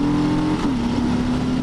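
A 2020 Harley-Davidson Fat Bob with the 107 engine accelerates hard, its rumbling exhaust rising in pitch, then briefly dropping as it shifts gear and pulls again, loud and close.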